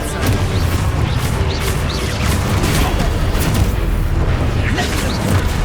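An Exposo explosion spell in Hogwarts Legacy: a loud, dense rumbling blast with crashing debris that fills the whole moment, layered with game noise and some voice.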